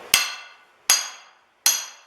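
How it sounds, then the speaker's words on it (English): A hammer strikes a hammer drift to open the eye of a hand-forged rounding hammer over the hardy hole, three loud, sharp metallic blows about three-quarters of a second apart, each ringing briefly before dying away. "put this over the Harty hole and get a hammer drift. And we're going to drift the eye."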